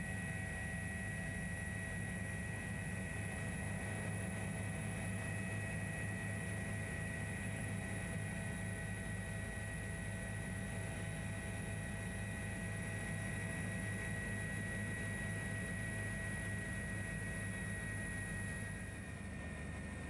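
Steady drone of a helicopter engine heard from inside the cabin in flight over Mounts Bay, a constant loud hum with a high whine throughout.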